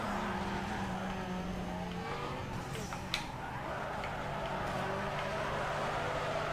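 A car drifting in Need for Speed Underground 2 gives a continuous engine drone with shifting tonal whines and tire noise, broken by one sharp click midway.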